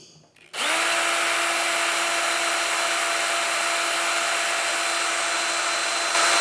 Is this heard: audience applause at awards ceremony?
no